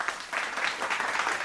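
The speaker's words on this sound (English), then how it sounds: "can we kind of give him a big round of applause to start with" Steady clapping from an audience fills the whole stretch, dense and continuous, rising slightly after a brief softer start.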